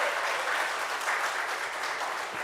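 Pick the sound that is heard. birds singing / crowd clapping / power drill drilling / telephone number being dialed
crowd clapping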